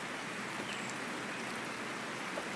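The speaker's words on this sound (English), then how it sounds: "R is for rain." Steady rain hisses as a dense, even wash of noise, with no voices and no change in intensity.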